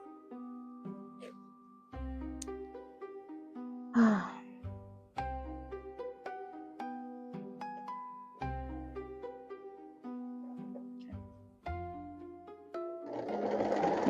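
A sewing machine stitches in short runs with pauses, a soft rhythmic whir and clatter heard close and fairly faint, with a few brief thumps and a rustle of fabric.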